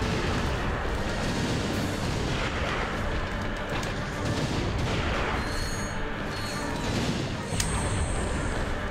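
Nitro launcher explosions in Ratchet & Clank: Up Your Arsenal, a dense, loud barrage of booming blasts and rumbling bursts running continuously, with a few bright game effect tones near the end.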